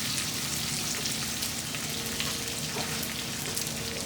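Steady crackling sizzle of onions frying in a hot pan, continuous and close, with no talking.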